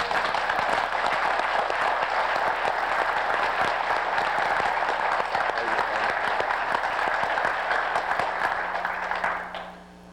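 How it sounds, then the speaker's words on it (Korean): Sustained applause from a church congregation fills the room at full strength for about nine seconds, then quickly fades out. "영광 박수 한번 돌립시다."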